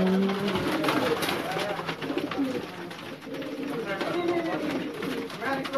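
Champion loft pigeons coo in low rolling bursts through the clip, with people talking over and between the calls.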